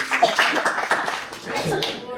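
Church congregation giving a clap offering, a short burst of hands clapping mixed with voices and a chuckle, close and fairly busy, easing slightly midway.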